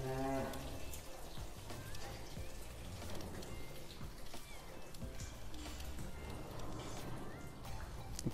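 Korean Hanwoo beef cattle on a South Korean cow farm give several drawn-out moos over a busy barn background, with shuffling and clanking throughout.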